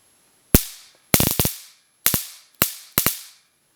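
A homemade taser's electric arc makes sharp, loud crackling snaps in short bursts, several rapid pops each, separated by brief silences.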